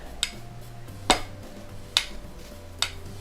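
Plastic hands of a LEGO Bionicle Kopaka figure from the 2016 Unity set tapped together in a slow clap, four sharp, light clicks spaced about a second apart over a quiet low hum.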